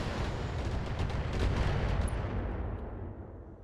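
Turrets firing in the BattleTech mech combat game: a dense, continuous barrage of booming, rumbling gunfire and artillery blasts that stays loud throughout and tails off slightly at the end, with no speech.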